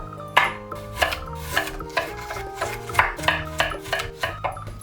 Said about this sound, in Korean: 당근 1조각도 잘게 잘라주세요